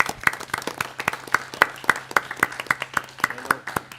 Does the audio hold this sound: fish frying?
no